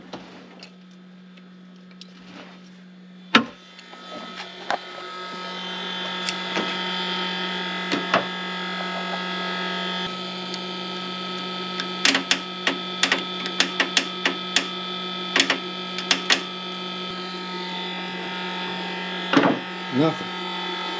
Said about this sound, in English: Let's try the solenoid again.